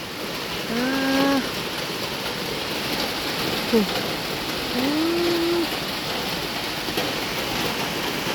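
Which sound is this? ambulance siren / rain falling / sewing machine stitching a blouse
rain falling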